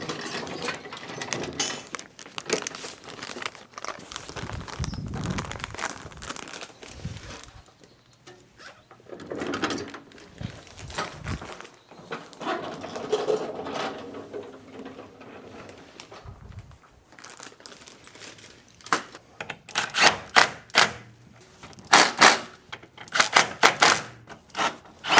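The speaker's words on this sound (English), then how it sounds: "So I'm going to bolt on the subframe to make it nice and secure" Bolting a subframe onto the chassis leg of a BMW makes a rapid series of metallic clicks, ratcheting and clanks, with bursts of sharp taps near the end and no voices.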